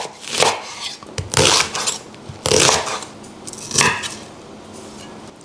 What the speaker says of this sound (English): Because I want this quite small, I'll cut it in half